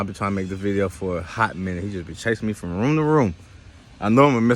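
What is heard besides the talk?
No distinct noise like a dog, phone or traffic.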